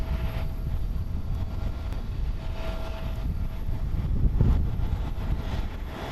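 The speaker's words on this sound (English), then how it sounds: "Arriving on runway 22 is Japan Airlines Flight 304 coming in from FUK. It's a 1 hour and 21 minute flight, an Airbus A350-900" A Japan Airlines Airbus A350-900 lands on runway 22 at Haneda airport in Tokyo, its jet engines a broad, distant rumble swelling slightly midway against steady wind noise.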